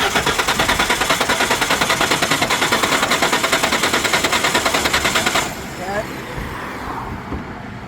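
Car engine cranking over and over without catching, a fast steady rhythmic chug for about five seconds that then stops, leaving quieter background noise.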